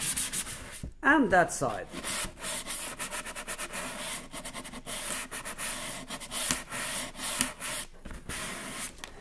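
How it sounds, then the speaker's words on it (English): Sandpaper rubbed by hand over cardboard edges for a craft cardboard house, a steady run of rapid rasping strokes, close and fairly loud, with a brief spoken remark near the start. "this roughness is not good for a painting, so you need to sand it. So you get your sandpaper out."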